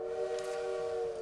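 A bird in the video game Little Witch in the Woods mimics a train whistle, giving a steady, clear multi-tone whistle that holds for over a second at moderate loudness, with no talk over it.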